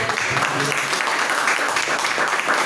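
A church congregation claps together during a Sunday service, a steady, fairly close patter of hands mixed with voices.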